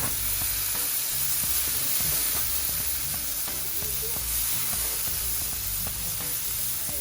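A vegetable medley of onion and other veggies sizzles steadily on a hot, smoking grill beside reverse-seared ribeyes, a constant close frying hiss with light crackles and scraping throughout, no talking.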